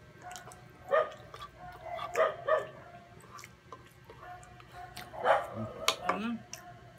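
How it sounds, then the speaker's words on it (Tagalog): Neighbouring dogs bark in scattered short volleys at middle distance, a few yips and whimpers among them, with people talking over the barking throughout. "Aso ng kapitbahay."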